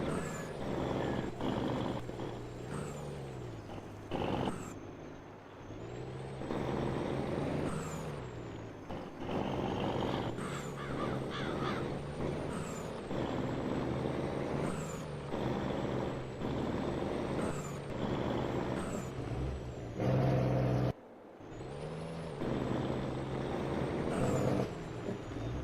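Truck in Farming Simulator 22, a loud engine drone rising and falling through gear shifts, with repeated sharp hissing bursts of air brakes and a steady high reversing beep cutting in and out.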